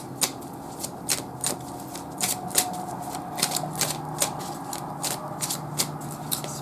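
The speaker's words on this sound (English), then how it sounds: "I will pull one more oracle card." Oracle cards are shuffled and pulled during a tarot-style reading, giving a steady run of crisp, close riffling snaps and soft slides at a fairly even rhythm, with no talking over them.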